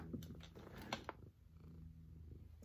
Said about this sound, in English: He's a very loud purr.